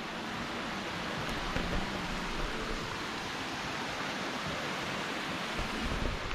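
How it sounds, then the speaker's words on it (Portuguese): A river flowing below a mountain road, a steady broadband rush of water with a low wind-like rumble, constant and fairly distant, heard without any voices. "É um rio que tem aqui embaixo."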